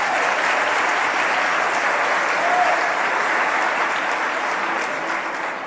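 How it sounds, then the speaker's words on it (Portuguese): Church congregation applauding at a couples' talk on marriage, a steady, dense wash of clapping from a large crowd, loud and even throughout with no voices over it, easing slightly at the end. "vamos aplaudir esse solteiro"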